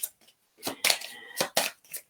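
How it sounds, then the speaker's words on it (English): Lenormand cards are shuffled by hand in a handful of short, crisp riffling bursts, close and fairly quiet, with brief pauses between them and no talk. "So I cleanse the cards first with the shuffling."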